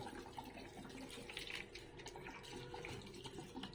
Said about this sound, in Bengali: ড্রেন করা হয়ে গেলে এটাকে ঠান্ডা জল দিয়ে ওয়াশ করে নেব।